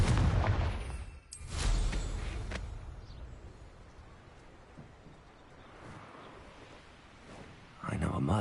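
Confringo blasting spell cast in Hogwarts Legacy: a loud, sudden fiery blast followed by a rumbling, crackling tail that fades slowly, with another burst near the end amid busy game sounds.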